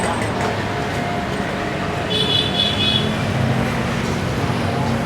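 Busy Saturday-afternoon traffic on Juanda Street in Jakarta, swollen by a diversion around a demonstration, rumbles steadily nearby, with a car horn tooting midway and a voice talking over the street noise.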